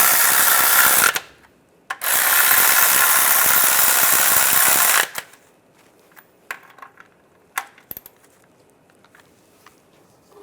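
A power tool or impact gun tightens bolts on an exhaust shield of a 1998-2010 Volkswagen Beetle, two loud whirring bursts with a brief gap, followed by scattered clicks and clanks of tools.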